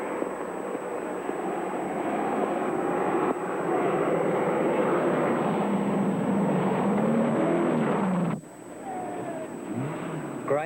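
A big 1980 Mercedes V8 rally car running flat out on a straight, heard as a strong, sustained engine roar at high speed that drops away sharply near the end, leaving quieter road and wind noise.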